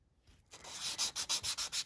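A Daiso cube sanding block with 400 grit rubs back and forth in quick regular strokes, a close scratchy rasp repeating about every quarter second after a brief quiet start.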